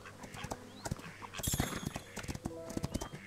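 In a horse-riding video game, hooves clip-clop in a quick, irregular rhythm with a brief louder flurry midway, set against faint background game sounds.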